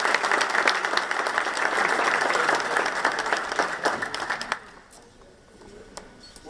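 Audience applause welcoming the mayor at an agriculture awards banquet in Virginia Beach, a steady, dense round of clapping from a large room that fades out toward the end.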